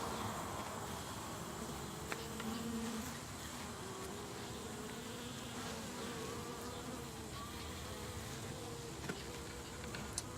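Honeybees working a hive frame with fresh comb, one bee posturing defensively, give a steady, fairly quiet buzzing hum that runs continuously throughout with no voices.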